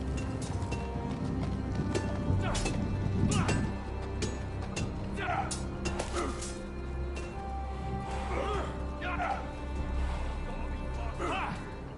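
Horse hooves clip-clopping steadily at a walking pace, close by, with a whinny and a voice talking over the hoofbeats.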